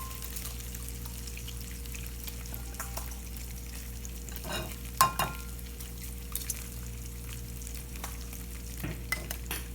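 Bacon sizzles in a pan, a faint, steady frying hiss with a few soft clinks and scrapes, heard from a distance under a low background hum, without any talk.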